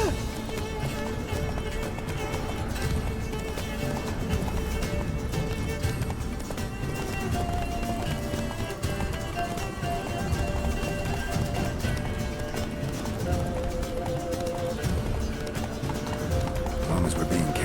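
Roach, Geralt's horse in The Witcher 3, galloping with steady rapid hoofbeats over a dense game music and ambience bed, with occasional voices talking over the running.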